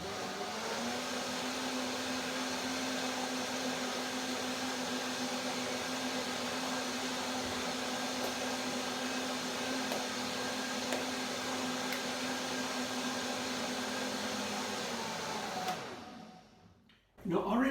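A blender whirs steadily through a dandelion, papaya and orange smoothie, a loud continuous motor drone that holds for about sixteen seconds before winding down and stopping near the end.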